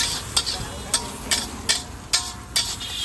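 Ingredients for moong pulao stirred and mixed in a hot frying pan, six sharp scraping strokes at a regular rhythm over a soft continuous sizzle, close and clear with no talking.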